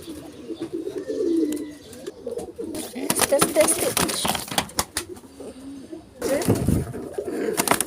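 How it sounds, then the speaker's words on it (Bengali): Pigeons coo around nests holding newly hatched chicks, with soft low bursts of cooing and some wing or body rustling. A person talks over part of it. "প্রত্যেকটা বাসায় বাচ্চা ফুটেছে কবুতরের বাচ্চা"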